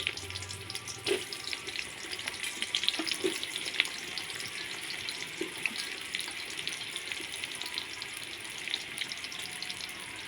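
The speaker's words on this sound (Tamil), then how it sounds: "வெங்காயம் நல்லா பொன்னிறமாக வர வரைக்கும் வணக்கணும்." Sliced onions and green chillies fry in hot groundnut oil, giving a soft, continuous crackling sizzle with scattered pops and a few light clicks from a stirring spoon, heard close and alone.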